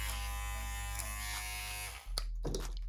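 A steady electric buzz of Kemei K-33s hair clippers running close up, with a strong low hum that briefly dips near the end before resuming.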